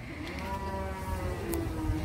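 A cow bought for Eid-ul-Adha sacrifice gives one drawn-out, droning moo up close against a low background hum.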